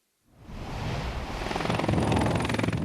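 A helicopter flies over a glacier collapse site in the Dolomites of northern Italy, its rotor chop and engine roar swelling in from silence to a steady, loud, close drone.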